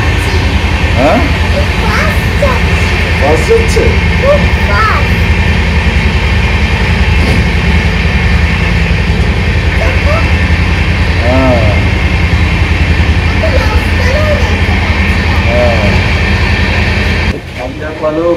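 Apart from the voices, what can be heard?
Vistadome train crossing a railway bridge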